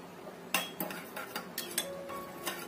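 A spoon stirs a sauce of sweet soy sauce, light soy sauce and sugar in a bowl, making close, irregular clinks and scrapes of metal against the dish, with no talking.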